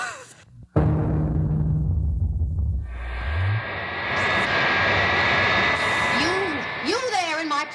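Wonder Woman's airplane engine roars up after a sharp cut, a steady droning propeller rumble from a vintage children's record dramatization, with voices speaking over the engine noise.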